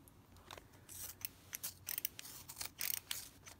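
A Sonic Ratchetta capsule pencil sharpener ratchets on a broken Field Notes pencil, making quiet, irregular clicking and scraping bursts up close.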